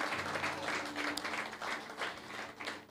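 A church congregation applauding, a steady rolling wash of clapping from many hands that sounds somewhat distant, with faint voices mixed in.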